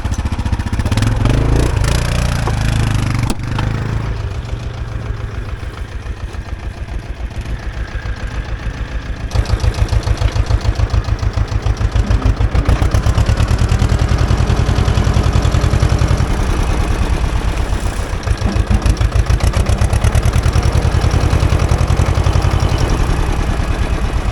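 An Ursus C-330 tractor engine idles close by, near a small car stuck in a ditch. The diesel chugs loud and steady throughout, and its pitch and load shift partway through.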